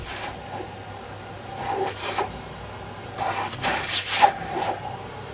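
Carbide chisels hollowing the inside of a wooden pot on a lathe give intermittent soft rasping, scraping cuts in short bursts over a steady low hum.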